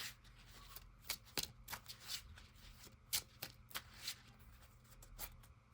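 A deck of cards shuffled in the digital card game Yu-Gi-Oh Master Duel, a run of quick, crisp riffling snaps and clicks repeating unevenly over a faint steady background, with no voices.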